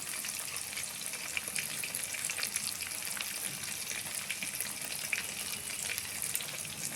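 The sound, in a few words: cardamom, cinnamon and cloves sizzling in oil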